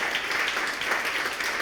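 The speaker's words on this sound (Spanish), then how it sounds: "denles un aplauso" Audience at a church service applauding a couple being honored, a steady dense wash of clapping at moderate level throughout, with no speech over it.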